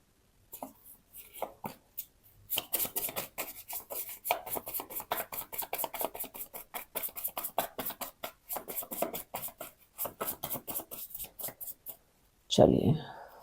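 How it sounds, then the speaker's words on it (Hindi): Tarot cards are shuffled by hand in a quick, steady run of soft, close riffling flicks, then a brief louder rustle at the end. "Last shuffle."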